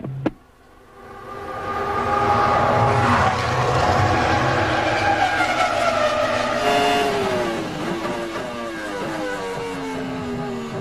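A 2002 Formula One car driven by Rubens Barrichello on a quick lap during the Malaysian Grand Prix warm-up, its high-revving engine screaming loud and close, pitch climbing and dropping through gear changes, with no talk over it.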